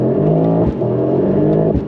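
A 2025 Mercedes-AMG GT 63 pulls away hard from a standstill, its engine droning loud and steady close by, with a brief dip as it shifts before climbing again.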